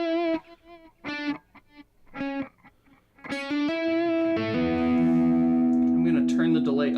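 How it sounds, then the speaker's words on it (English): Guitar notes through a Chase Bliss tremolo effect pedal with a pulsing, wavering tremolo, short plucked phrases giving way to a sustained shimmering chord that throbs in volume. "we actually get into tremolo territory."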